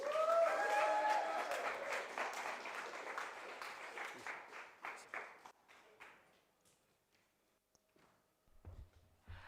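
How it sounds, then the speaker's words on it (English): Audience applause at an outdoor summer street festival poetry slam, loud clapping from a crowd that starts at full strength, thins out over several seconds and fades into scattered claps. "Can we have a round of applause"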